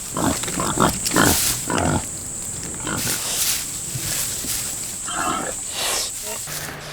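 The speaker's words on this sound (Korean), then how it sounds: "근처 밤밭에서 다른 멧돼지가 발견됐습니다." A wild boar grunts and snorts in a chestnut grove, giving short rough bursts in an uneven rhythm. A steady high insect-like hiss runs under them, and a voice briefly speaks.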